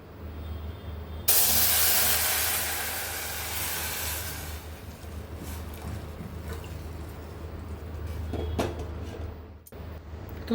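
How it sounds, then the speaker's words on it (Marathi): Hot milk poured into a pan of fried vermicelli for sweet kheer, a loud hissing, sizzling rush starting abruptly, then settling into a steady softer bubbling simmer, with no talk. "तर गरम दूध ओतूया आपण याच्यात।"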